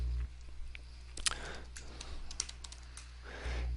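Typing on a computer keyboard while editing LaTeX, a close run of light, irregular key clicks with a few sharper taps, heard alone over a low steady hum.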